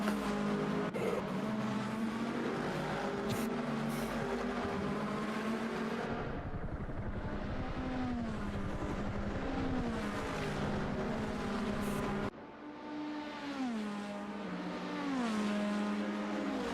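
Race cars in traffic at Daytona in an endurance-racing video game, several engines droning and shifting pitch as they pass and accelerate, steady and loud with no talk.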